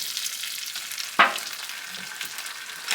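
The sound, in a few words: lobster shells sauteing in melted butter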